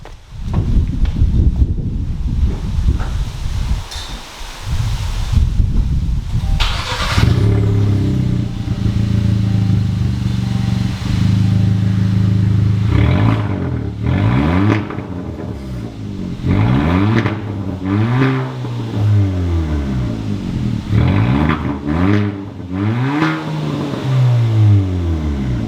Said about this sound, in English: Let's start this thing up. I'm excited. Here we go. First start up.